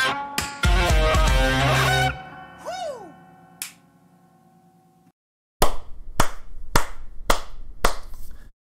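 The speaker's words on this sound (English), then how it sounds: "a firm golf clap on that one" A slow golf clap by one person: about six firm, evenly spaced hand claps ring out near and clear after music fades into silence.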